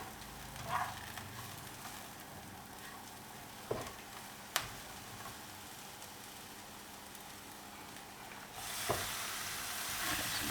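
Leeks softening in a hot pan give a faint, steady sizzle and crackle, with a few soft clicks of stirring and a slightly louder frying hiss at the end.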